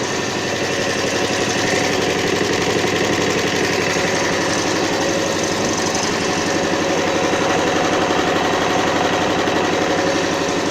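A homemade inverter generator's engine runs steadily and loudly throughout, a constant droning rumble with no pauses or voices.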